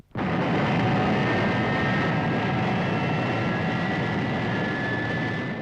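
Thunderbird 1 rocket aircraft lifting off in a TV puppet series sound effect: a loud, sustained jet-like roar with a steady high whine, starting abruptly and holding at full strength throughout, no talk.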